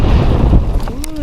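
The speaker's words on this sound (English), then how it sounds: "Ooh, there's that wind." Wind blows strongly across an outdoor cemetery parking lot, a loud, close, rumbling buffet on the microphone that briefly overlaps a voice.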